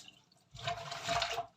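Hands washed under running water at a kitchen sink while making Bavarian bread dumplings, a steady splashing wash that starts midway and holds fairly loud, with a quieter lead-in.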